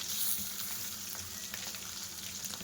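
Prawns fry in a pan for a curry, turned to cook on both sides, giving a quiet, continuous sizzle with light crackles and a faint stirring scrape, with no talking.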